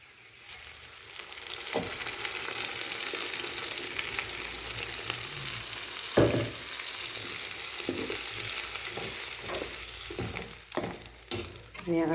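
Ground curd being poured into a sautéed curry mixture for an okra buttermilk curry, a steady frying sizzle running throughout with a few sharper stirring knocks and pan clinks near the end.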